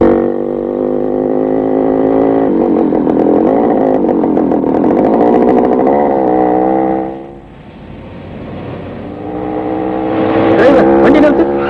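A vehicle engine runs steadily during a Tamil comedy film scene, a continuous droning hum that dips briefly partway through and then picks back up, with dialogue and background score mixed over it.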